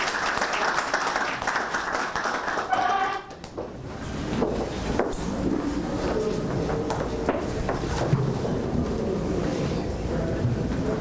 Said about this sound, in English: Can we have a hearty round of applause as we get here on stage,